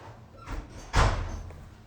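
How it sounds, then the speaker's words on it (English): A room door swings shut with a single solid thud at close range, a faint bump just before it, in an indoor crafting setting. "Will you close that door for me?"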